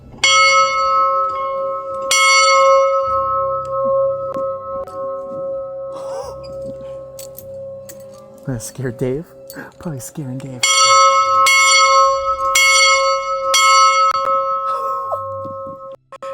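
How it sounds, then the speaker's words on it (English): A large bell rings loudly several times, each strike leaving a long, ringing tail, with someone speaking briefly between the tolls. "That was like a huge bell sound."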